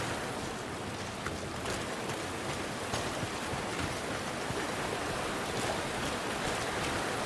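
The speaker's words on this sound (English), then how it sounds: "Waterfall." A waterfall in the game GreedFall, a broad, steady rushing roar of falling water, constant and fairly soft, with no voices.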